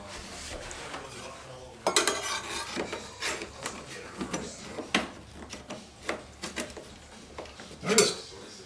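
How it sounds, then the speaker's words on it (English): Metal spatulas work a wooden stair riser loose, giving a run of scraping, tapping and prying clicks at close range, with sharper knocks near the two-second mark and again just before eight seconds, and no talking. "I'm just using a couple of little spatulas here, metal spatulas, and all I'm trying to do is just work it just a little loose."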